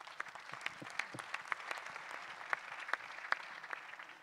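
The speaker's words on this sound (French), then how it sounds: "on peut l'applaudir" Audience applause at a Normandy regional conference, a fairly quiet, steady patter of clapping with scattered sharper individual claps, heard from a distance in a large hall.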